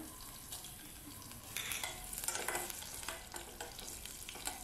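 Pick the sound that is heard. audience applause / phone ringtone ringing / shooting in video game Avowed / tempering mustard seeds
tempering mustard seeds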